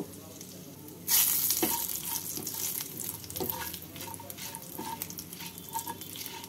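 Whole cumin, cardamom pods, cinnamon pieces and cloves sizzle and crackle loudly in hot oil, a steady frying hiss with brief stirring clatters and small pops throughout, no voices.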